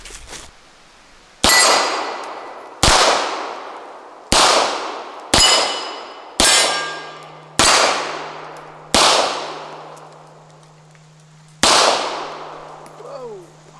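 Shots from a Star Model B pistol strike steel plates, about nine sharp, ringing clangs with pauses between them and each ring fading slowly. A steady hum runs under the later hits.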